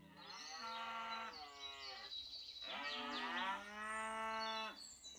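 Cows in a video game give two long, drawn-out moos, each rising and falling in pitch, with a short pause between them. They are clear and isolated, with no speech over them.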